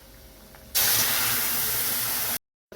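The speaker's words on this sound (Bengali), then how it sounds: "পেঁয়াজটা ভাজা হয়ে গেছে, এই সবজিটা ঢেলে দেবো।" Boiled vegetables tipped into a pan of hot oil with fried onions set off a sudden loud, steady sizzle that holds for well over a second and a half, then cuts off abruptly.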